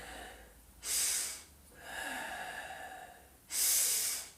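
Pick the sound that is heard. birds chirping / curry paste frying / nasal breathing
nasal breathing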